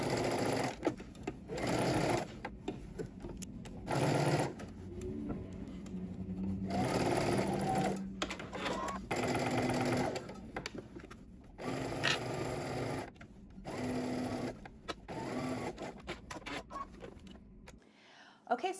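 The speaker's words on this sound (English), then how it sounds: "now we're just going to stitch across using 5/8 of an inch seam allowance" A sewing machine stitches a 5/8-inch seam, running in steady rapid bursts with brief pauses between them. The rhythmic whirring and clatter sits close and clear, with no talk over it.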